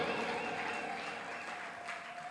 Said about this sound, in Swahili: Hebu piga tena makofi kwa Yesu Kristo.